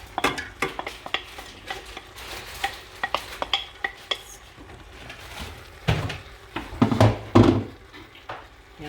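A prune and almond tajine is stirred in a pot with a utensil, repeated scraping clanks and knocks in an irregular rhythm, growing louder and busier toward the end, close up with no talk.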